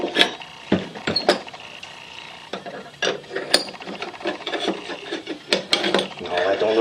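A bench vise is loosened with ratcheting, scraping and rubbing metal sounds to free a bike axle plate, with irregular clicks and clunks up close over several seconds.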